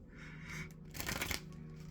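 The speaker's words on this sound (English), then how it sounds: "I want to make sure they're nice and shuffled." Playing cards are shuffled by hand, producing a steady riffling and rustling with a louder burst of flicking cards in the middle, close up and without speech.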